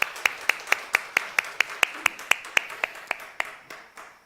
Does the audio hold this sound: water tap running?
no